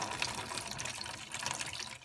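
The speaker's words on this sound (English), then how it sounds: "what happens when I pour hot water all over this piston?" Hot water pours over a carbon-fouled car engine piston from a 2010 Taurus SHO being decarbonized, a steady close splashing and trickling wash that runs continuously without pause.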